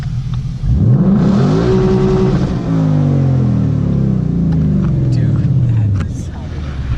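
A 2016 Ford Mustang GT V8 fitted with a PMAS intake revs loudly and close, climbing then sliding back down in two sweeping pulls over a steady idle, while people talk over it.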